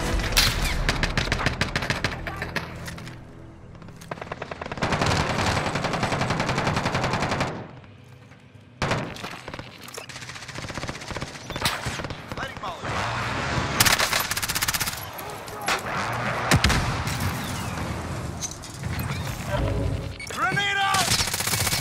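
Sustained automatic gunfire from Call of Duty Warzone, bursts of machine-gun fire in a dense, loud barrage with a brief lull midway, mixed with game voice callouts.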